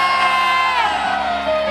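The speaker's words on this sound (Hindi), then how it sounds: "तो जोर से फिर यीशु के लिए ताली बजाओ और जोर से बोलो यीशु मसीह की।" A church congregation at a live prayer service shouts together loudly and in unison, a sustained mass of raised voices with no single speaker standing out.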